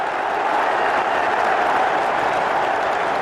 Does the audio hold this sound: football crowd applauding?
yes